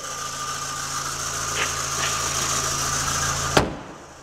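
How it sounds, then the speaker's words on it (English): A 2001 Volkswagen Golf with 128,000 miles idles steadily close by, a smooth continuous hum with a faint tick, ending with a sharp click as it shuts off. "Engine runs good."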